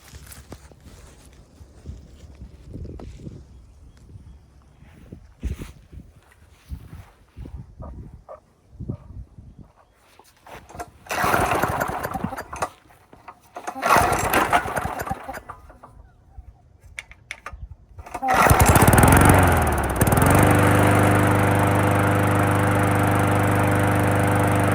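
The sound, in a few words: vintage Toro lawnmower with Briggs and Stratton engine starting, running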